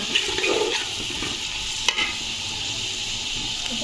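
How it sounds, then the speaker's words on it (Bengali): Thickly cut onions fry in oil in a pan, a constant loud sizzle with brief stirring scrapes and one sharp clink partway through. "পেঁয়াজটা হালকা একটু ভাজা"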